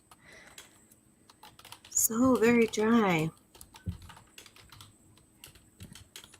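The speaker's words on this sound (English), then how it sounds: "I hear somebody typing" Computer keyboard typing during an online group art session: rapid, uneven clicks scattered through the clip, with a nearby voice speaking over them for a moment.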